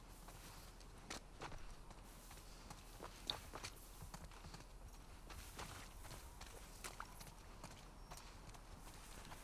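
A horse's hooves in the video game The Last of Us Part II, set in downtown Seattle, clop at a steady walking pace, soft and fairly distant against a low ambient hum.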